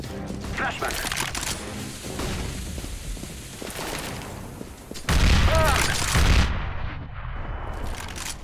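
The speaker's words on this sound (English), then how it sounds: "I'm throwing a flashbang." A flashbang grenade goes off in a CS:GO match, giving a sharp burst over busy game noise and gunfire, followed by a high whine as the sound cuts out. A player talks over it.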